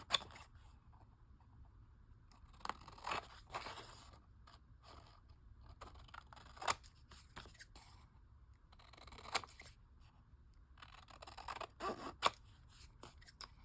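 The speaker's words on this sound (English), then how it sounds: "So just glue it down and then I trim around the edge." Scissors trim around the edge of a glued paper tag for junk journal ephemera, giving soft, intermittent snips and small mechanical clicks, close and faint, with no talking.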